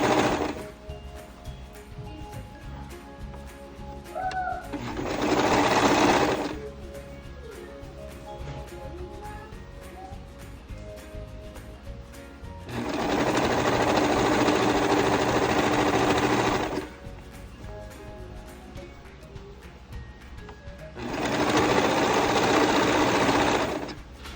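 A sewing machine stitches a sundress in three bursts of steady whirring, the second run lasting the longest, separated by quieter pauses filled with faint handling noise.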